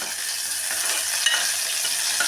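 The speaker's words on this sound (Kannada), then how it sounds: "ಬೆಳ್ಳುಳ್ಳಿ, ಹಸಿಮೆಣಸಿನಕಾಯಿ ಹಾಕಿಬಿಟ್ಟು ಸ್ವಲ್ಪ ಇದನ್ನು ಫ್ರೈ ಮಾಡೋಣ." Crushed garlic and green chillies fry in a pan for a fenugreek and spinach khichdi, giving a steady, close hiss of sizzling oil with faint stirring scrapes throughout.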